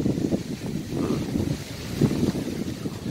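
Strong cold wind gusts across a canal-side garden in Sattahip, buffeting the microphone with low rumbling bursts that swell and fade in uneven waves, with no voices.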